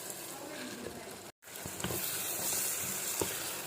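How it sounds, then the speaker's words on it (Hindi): Peas and minced meat frying in a karahi for matar keema, a dense close sizzle with a brief dropout early on, then continuing with occasional stirring knocks. "तो अभी हम मटर को गला रहे हैं, इसमें अच्छे से बुनाई कर रहे हैं मटरों की।"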